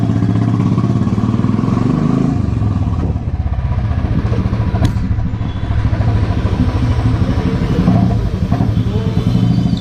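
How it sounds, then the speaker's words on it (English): A motorcycle engine idling nearby with a steady, deep rapid thump and a metallic clatter, holding loud and even throughout with no talking. "today also my bike sound makes me feel proud and just happy, because it feels royal for me"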